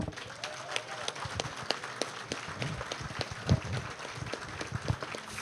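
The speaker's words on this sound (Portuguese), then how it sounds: "Vamos aprovar com uma salva de palmas esse..." Applause at a union congress, a broad wash of clapping from a crowd in a hall, steady and moderately loud across the whole stretch with a few sharper claps standing out.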